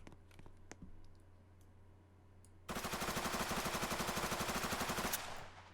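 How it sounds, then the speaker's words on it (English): A Ruger SR556 rifle on full auto in a police video game fires one rapid sustained burst of about two and a half seconds after a few quiet clicks, loud and even against a faint background hum. "we got a new rifle, the Ruger SR556. This is actually a full auto rifle as well."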